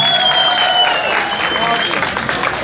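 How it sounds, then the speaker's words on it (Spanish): An audience claps for a mother-and-son pair at a zapateado dance contest in Wendell, North Carolina, a dense and steady burst of applause that runs loud throughout with crowd noise mixed in. "Y los que crean que esta pareja de mamá e hijo ganaron, regálame el aplauso."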